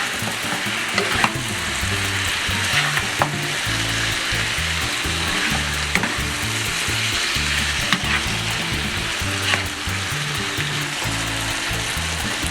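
Fresh spinach stirred into a sizzling mushroom sauce in a hot pan, a constant bright frying hiss with repeated scraping stir strokes and occasional utensil clicks, close and steady without any talk.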